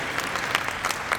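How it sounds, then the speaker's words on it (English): Applause from a convention panel audience at a furry convention, a steady wash of many clapping hands that stays even and fairly loud for its whole short length, with no voices rising above it. "If people could please applaud."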